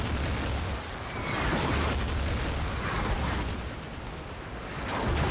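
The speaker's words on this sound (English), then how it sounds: "Double artillery's landing." Artillery shells landing in the video game Battlefield 2, a dense continuous rumble of booming explosions that swells and fades across the clip, loud and close with no talk over it.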